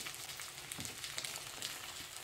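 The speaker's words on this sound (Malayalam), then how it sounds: "ആ ചെറിയ തീയിൽ അത് കുക്കായി അതായത് തിളച്ച് വരുന്നുണ്ട്" Masala-covered karimeen fish cooks in a banana leaf over a low flame, giving off a soft, continuous sizzle with small crackling pops, faint and close.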